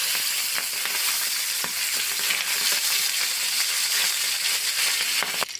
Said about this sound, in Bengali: তেল গরম হয়ে গেছে, আমি মাছের মাথাগুলো ভেজে নেব